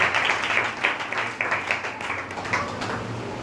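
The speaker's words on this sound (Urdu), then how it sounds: "آئے زوردار تالیاں بہن علیمہ کے ساتھ دیں۔" A church congregation at a Wednesday prayer meeting claps loudly and continuously, a dense patter of many hands filling the room for several seconds.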